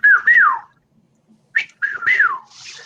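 A person whistles an imitation of a Chuck-will's-widow call twice, each a quick three-part phrase with a swooping middle note, separated by a short silence.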